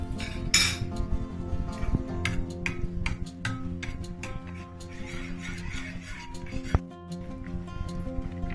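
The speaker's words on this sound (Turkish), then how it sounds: "Daha sonra çintiklediğimiz salatalıklarımızı karıştırıp güzelce harmanlıyoruz." A spoon stirs garlicky yogurt with cucumbers in a bowl for cacık, giving steady scraping with repeated light clinks against the bowl and a sharp knock near the end, close and continuous.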